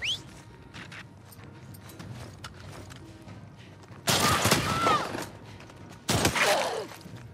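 Gunfire in The Last of Us Part 2 video game, arriving as two loud bursts of rapid shots separated by a quieter stretch with faint footsteps and movement, close and dominant.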